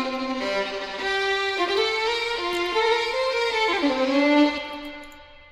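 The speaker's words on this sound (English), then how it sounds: "So I just layered the two violins and it sounds like this." Two violin samples layered into one line, bowed sustained notes with rich harmonics gliding between pitches in a slow melody, steady and fairly loud throughout with no talking.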